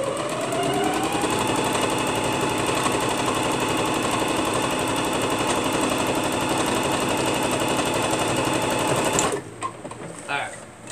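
A sewing machine stitching a round bag, running in a fast, steady rapid-fire clatter for about nine seconds before stopping abruptly, followed by faint handling noises.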